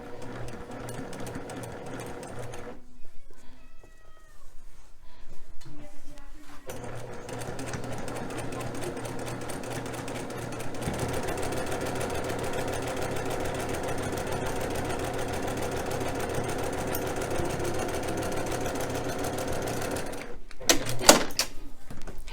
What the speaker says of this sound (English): we're going to sew the 2 by 8 inch gray strip over here next to the light green